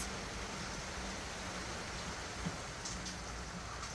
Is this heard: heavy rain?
yes